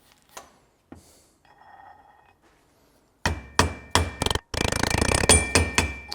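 A new rear wheel bearing hammered into place on a BMW E46 M3, starting with faint handling noises and then a run of loud, ringing metallic blows in quick succession, the tone shifting as it seats.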